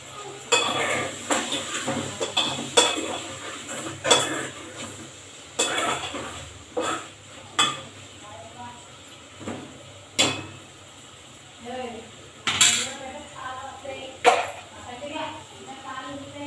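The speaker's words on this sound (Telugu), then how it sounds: "టమాటా పండు వేసి ఒకసారి మంచిగా కలపాలి" Metal spoon clanking against a pot as tomatoes are stirred into vegetable sambar, with repeated sharp scraping knocks in an uneven rhythm; a dog barks faintly and a voice talks now and then.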